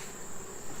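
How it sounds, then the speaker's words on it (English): Honey bees fill a packed beehive with a steady, close, continuous buzzing drone. "this hive is just packed with bees."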